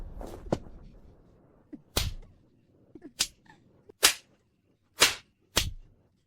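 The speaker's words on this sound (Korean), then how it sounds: "이 계집종의 뺨을 때려라." Face slaps land on a servant in a historical drama: about six sharp, crisp smacks arrive at irregular intervals, each one loud and close, with quiet gaps between them.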